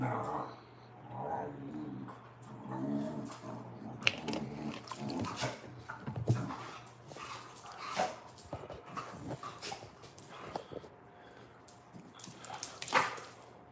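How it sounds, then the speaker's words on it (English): Dogs playfighting indoors, growling, yipping and panting in quick irregular bursts, fairly close, with a person talking in between. "Look, I'm hosting a dog fight."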